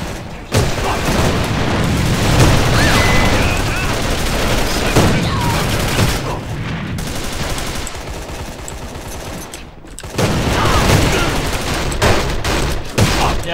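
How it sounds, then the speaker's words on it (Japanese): Gunfire and explosive booms fill a round of the online shooter AVA as a hand grenade is thrown and detonates, loud and dense with a brief lull before the battle noise surges back. "手榴弾投擲。"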